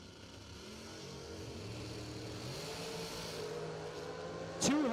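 A Camaro and a dragster racing down a drag strip: steady engine drone with climbing revs heard at a moderate distance, ending in a sharp, loud burst.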